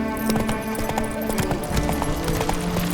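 Roach, the horse from The Witcher 3: Wild Hunt, gallops with steady, close hoof clip-clops over a layer of tonal game music, with no one talking.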